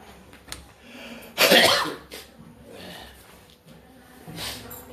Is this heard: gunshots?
no